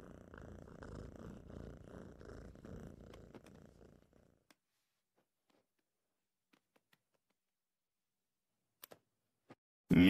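A cartoon house cat purrs steadily and fairly close for about four seconds in a Family Guy scene, then near-silence follows with a few faint clicks and a short loud burst at the very end.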